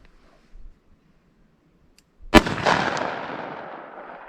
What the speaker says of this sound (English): Today I'm going to shoot 4 yards.